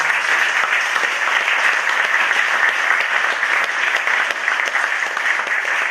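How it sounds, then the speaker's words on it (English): A sustained wash of audience applause for a man being honoured at a talk, steady and dense from start to finish with no voices over it. "So he deserves a round of applause."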